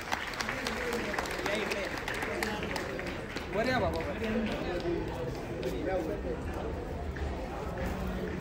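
An audience at a temple anniversary celebration claps in a broad, sustained wash of applause that swells slightly midway, with some voices faintly underneath.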